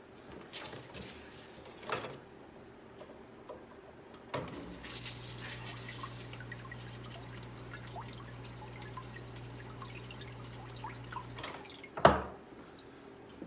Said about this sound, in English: I'm going to run it and make sure that the water comes out everywhere.